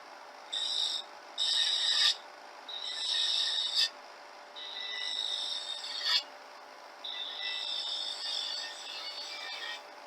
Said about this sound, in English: leave enough wood on there so that there's not much vibration when hollowing it